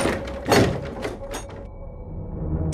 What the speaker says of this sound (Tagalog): Sinarado ulit ng aking biyena ng pinto at nilak ito.